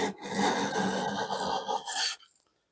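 A Jorgensen #102 low angle block plane takes a shaving off wood, one continuous rasping stroke about two seconds long, close and fairly loud, ending abruptly in quiet.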